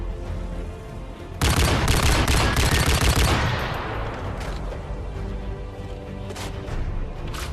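Barrett sniper rifle in a video game fired rapidly in a loud burst of heavy, overlapping booming shots, then echoing reverberation trailing off.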